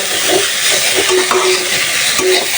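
Bitter gourd with coriander leaves frying in a pan, a steady loud sizzle and hiss with occasional soft scrapes of stirring, no voices.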